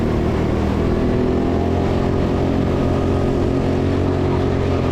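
A go-kart at TeamSport Sheffield drives past going up a ramp, its engine a loud, steady, close droning roar that fills the whole moment without pause.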